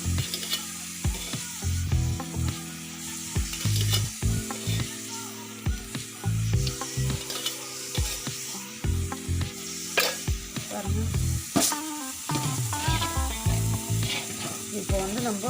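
Hot oil sizzles and crackles steadily in a heated kadai, with intermittent stirring scrapes and clinks up close and no talking.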